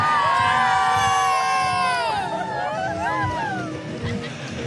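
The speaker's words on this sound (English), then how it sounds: "the crowd just starting to file out of the stadium here in Valmoster" Crowd at a cross-country ski stadium in Val Müstair during a Tour de Ski stage, loud and close at first with whistle-like tones and shouts, then settling into a looser babble as people begin to leave.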